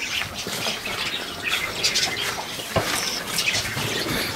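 Parrots squawking outdoors near a rural yard with a farm and sheep nearby, a busy chorus of sharp, scratchy calls overlapping continuously at moderate distance, with other small birds and faint background noise mixed in.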